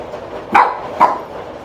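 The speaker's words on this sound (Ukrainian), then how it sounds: "Ти чого гавкаєш?" A dog indoors during a rainstorm with thunder gives two short sharp barks about half a second apart, close and fairly loud over a steady background of rain noise.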